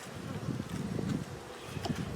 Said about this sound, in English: A little windy today, so my smoke doesn't really go down much